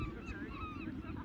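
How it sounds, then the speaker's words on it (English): A flock of birds gives goose-like honking calls, several overlapping nasal honks repeating quietly in the distance over a low background rumble, with no talking. "lots of birds there"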